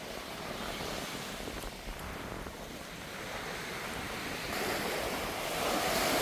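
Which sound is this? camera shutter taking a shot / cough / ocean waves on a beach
ocean waves on a beach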